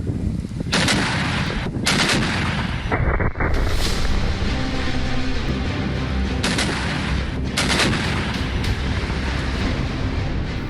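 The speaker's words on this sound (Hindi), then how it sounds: "लुहांस्क में रूसी तोपखानों ने यूक्रेनी सेना पर आग की बरसात कर दी" Russian artillery fire in Luhansk, Ukraine, a loud, dense barrage of booming blasts and rapid gunfire rolling on continuously, with sharp bursts standing out over a constant roar.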